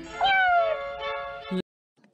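A cartoon cat lets out one loud, drawn-out meow with a falling pitch, then a shorter second cry that cuts off abruptly into silence.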